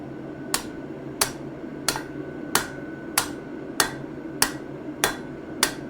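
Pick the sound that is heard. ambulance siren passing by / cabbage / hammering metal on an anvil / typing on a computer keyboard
hammering metal on an anvil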